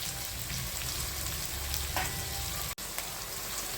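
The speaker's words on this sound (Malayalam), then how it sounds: "നമ്മുടെ ഉള്ളിയും പച്ചമുളകും ഇവിടെ വഴന്ന് വരുന്നുണ്ട്." Chopped onions and green chillies sauté in hot oil in a pan with a steady, close sizzle and light crackling. A single brief knock or stir is heard partway through, and no one talks.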